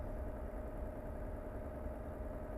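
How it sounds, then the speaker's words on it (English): Constant low drone of a Renault T truck's engine brake in Euro Truck Simulator 2, a steady rumbling hum with no breaks, nearby and even in level, with no voices. "The engine brake's actually really powerful."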